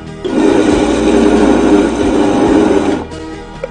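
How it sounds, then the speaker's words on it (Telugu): A mixer grinder whirs loudly and steadily for about three seconds, grinding a dry mixture, then cuts off, with no talking. "దీన్ని చక్కగా మిక్సీలో ఒకసారి తిప్పుతాం."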